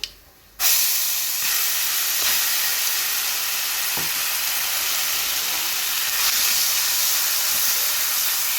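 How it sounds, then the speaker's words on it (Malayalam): Chutney added to hot oil with popped mustard seeds, a sudden loud sizzle that bursts in after a short quiet moment and keeps hissing steadily throughout, close up with no talking. "കടുക് മുഴുവൻ പൊട്ടിക്കഴിയുമ്പോൾ നമുക്ക് നമ്മളുടെ ചമ്മന്തി ഇതിലേക്ക് ചേർത്ത് കൊടുക്കാം"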